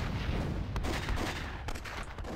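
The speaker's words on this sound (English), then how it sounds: "That was a great cannon attack, I do believe" Cannon fire in a multiplayer battle video game rumbles as a dense, continuous barrage of booming blasts and crackling impacts, loud throughout, with several sharper hits standing out.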